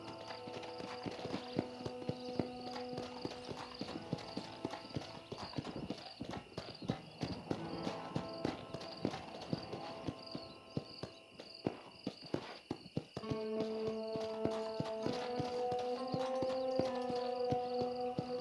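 A horse's hooves clip-clop steadily at a walking pace in Red Dead Redemption, close and clear over faint crickets and ambient music, with the rhythm continuing throughout.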